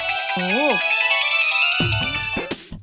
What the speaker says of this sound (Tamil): அவ ஃபோன் தாண்டி அடிக்குது